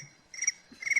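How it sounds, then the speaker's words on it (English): Crickets chirp indoors in two short bursts of high trilling pulses, faint against a quiet room. "crickets."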